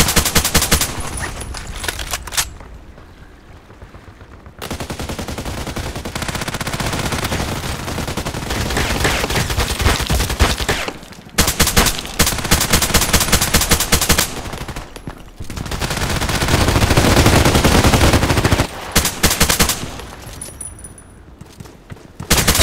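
AUG A3 assault rifle gunfire in the Contract Wars video game: loud, dense rapid bursts and single shots fill most of the stretch, broken by a few short pauses.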